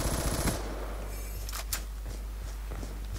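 A light machine gun fires in a Black Ops 2 match as a short burst of rapid shots at the start. Scattered fainter game sounds and thuds follow.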